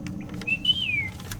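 A person whistles a single rising-then-falling tone about half a second long, imitating the call of a red-capped bird, over a low murmur of room noise.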